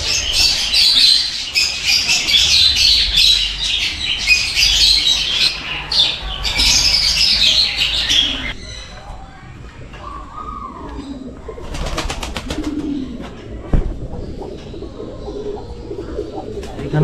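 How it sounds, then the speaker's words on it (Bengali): Caged birds at a bird zoo in the Kathgola garden house, Murshidabad: loud, dense chirping and squawking at first, then quieter scattered calls and pigeon-like coos with faint background voices. "চিড়িয়াখানা। এখানে আছে প্রচুর পাখি।"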